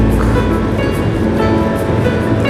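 Rushing water from a flooded river and its waterfall, heard from a moving vehicle on a road trip through Central Java toward Bekasi, as a steady, loud, broadband roar that continues without a break and mixes with road and engine noise.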